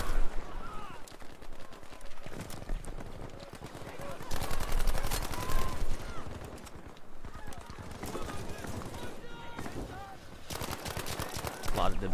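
Gunfire from a weapon in the shooter game Battlefield V crackles in rapid bursts and scattered shots amid battle noise, with a player talking over the action.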